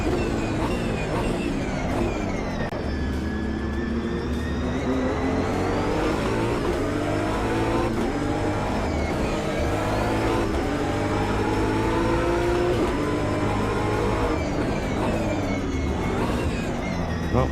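A race car engine in Project Motor Racing drones steadily and loudly throughout, its pitch rising and falling through gear changes with a continuous revving whine and no talking over it.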